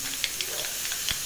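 Thalippu vadagam and mustard seeds sizzle and spit in hot oil for mango sambar, a steady soft hiss broken by a few sharp pops.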